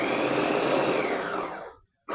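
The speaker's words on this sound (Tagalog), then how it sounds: "gumamit ako ng meat processor, food processor kasi wala akong blender" A food processor whirs steadily as it chops sambong leaves into powder, a loud continuous motor roar that cuts off abruptly near the end.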